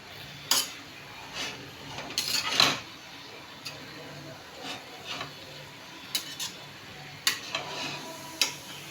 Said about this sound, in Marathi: आता ही भाजी मी एकदा मिक्स करून घेत आहे.